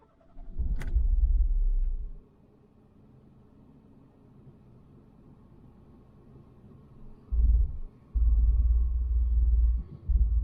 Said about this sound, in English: There you go, sort of all idle smooth and then drops and cuts out.